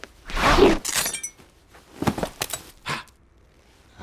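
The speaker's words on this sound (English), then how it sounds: "Oh, I like it when it shatters." Animated ice powers crack and shatter in a loud crashing burst, followed by a few more sharp icy breaks and clinks spaced over several seconds.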